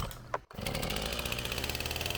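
A chainsaw catches after repeated tries, with a short pull and a brief pause before the engine fires and settles into a loud, steady idle buzz close by.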